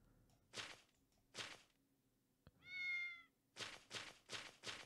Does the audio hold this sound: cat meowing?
yes